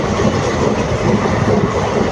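A passenger train on the Tiruchirappalli to Puducherry route runs along the rails with a loud, steady rumble and rhythmic clickety-clack of wheels, heard from on board with no talking.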